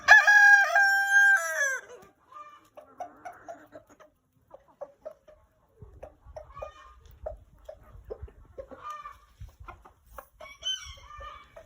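A rooster tidbitting to call hens to food opens with one loud crow, then gives a run of soft, quick, low clucking calls with a few louder notes. The calls sound close and there is no talk.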